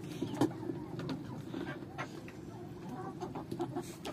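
Chickens and a rooster cluck and call in a backyard coop, short close clucks and squawks scattered over a steady low hum of the pen.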